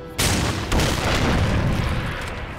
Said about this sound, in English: What if now I shoot this?